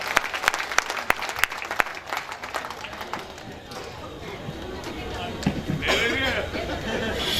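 Audience applause at a live Hindi stand-up comedy show, a burst of sharp clapping that thins out into crowd noise and chatter, with a voice speaking over it.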